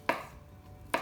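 Two sharp knife strokes cut thin slices of mozzarella on a board, landing close and distinct almost a second apart with quiet between them.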